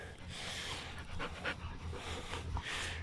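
Dogs pant in quick, rhythmic breaths at close range in the cool morning air outdoors, the panting soft but steady over faint background ambience.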